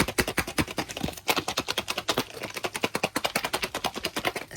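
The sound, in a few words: Miniverse capsule shaken, loose parts knocking inside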